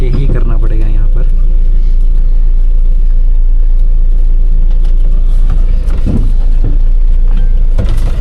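A Mahindra Bolero Pickup engine hums in third gear while coasting along a narrow road without throttle. The low, steady drone runs close and continuous beneath someone talking.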